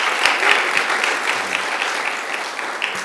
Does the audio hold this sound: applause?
yes